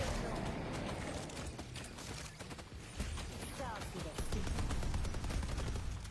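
Robot turret firing in a robot combat video game: rapid bursts of gunfire-like shots over constant game noise, swelling louder toward the end.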